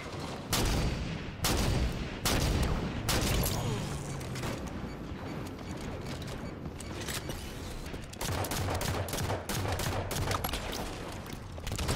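Rapid bursts of shotgun and other gunfire in a Halo 5 match, repeated sharp blasts in quick irregular succession, loud and close throughout.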